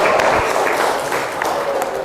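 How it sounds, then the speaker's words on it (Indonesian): An audience at an Indonesian hajj officers' technical training session applauds, a dense, steady patter of many hands clapping close by throughout. "Oke, tepuk tangan untuk kita semua."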